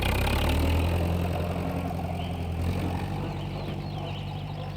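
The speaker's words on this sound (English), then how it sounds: "the tractor is making a funny noise" A tractor engine runs steadily up close, a low rumbling chug with a rough mechanical edge that holds for several seconds.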